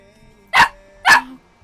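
Two sharp, loud barks from Cooper, a puppy, spaced about half a second apart against a quiet room.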